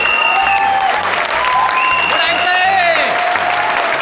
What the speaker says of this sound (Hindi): हाँ, खड़े होकर तालियां बजाइएगा डॉक्टर साहब के लिए।